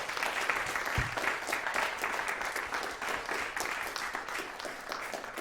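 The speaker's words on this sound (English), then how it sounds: "Please, give a round of applause to the production team" An audience applauds the production team after a theatre performance at CalArts, dense sustained clapping from a full room that keeps going without a break.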